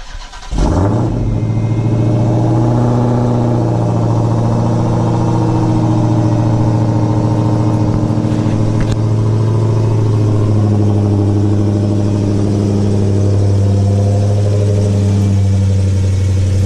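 Dodge Challenger Hellcat engine fires up and holds a steady, deep, loud drone close by, with a low rumble that stays constant and slight swells in pitch, no voices over it.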